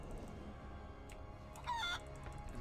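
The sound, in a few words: mutant bush chicken clucking in video game World of Warcraft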